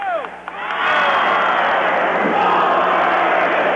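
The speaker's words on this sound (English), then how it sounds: "Crowd getting into it." Wrestling match crowd erupting into loud sustained cheering and shouting that swells after a brief lull and holds at full volume, with a commentator's voice near the start.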